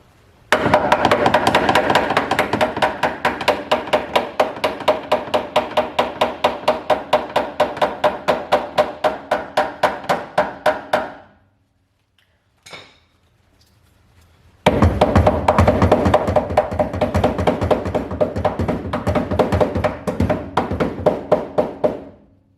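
Rapid, steady metallic hammering strikes with a screwdriver used as a hammer repeat for about eleven seconds, pause briefly with a lone knock, then resume just as fast and loud.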